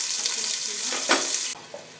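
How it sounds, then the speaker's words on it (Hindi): Onions fry in hot oil with a close, crackling sizzle, broken by a brief stirring scrape near the middle, before the sound drops off sharply toward the end. "हम इसमें प्याज ऐड करेंगे और इसे गोल्डन ब्राउन होने तक फ्राई करेंगे"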